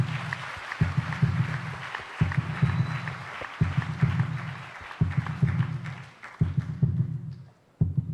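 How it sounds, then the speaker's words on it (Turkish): Heartbeat sound effect on a Turkish TV talent show stage, a heavy low double thump repeating steadily about every 0.8 seconds over a crowd-like wash, then briefly dropping out before resuming. "Şu kalp sesini hakikaten bir dakika durduralım"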